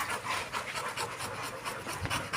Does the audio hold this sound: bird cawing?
no